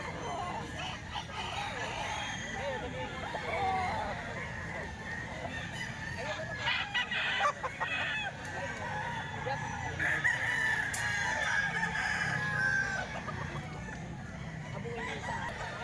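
A fighting rooster crows and clucks nearby amid a steady farmyard background, with a clear crow rising around the middle and scattered clucks throughout.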